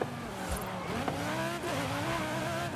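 Myers-Manx dune buggy tearing along in Forza Horizon 5, a steady loud engine drone with shifting revs, a brief tire squeal and gear changes over about three seconds, no talk.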